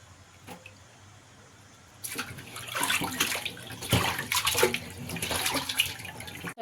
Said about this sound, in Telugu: ఒకటికి 3 సార్లు శుభ్రంగా క్లీన్ చేసుకున్నాను చికెన్ని